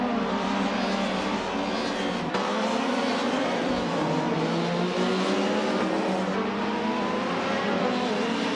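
Race cars in a video game, among them a 1993 Toyota Carina eGTI, with sustained engine drone and shifting revs, loud and continuous throughout.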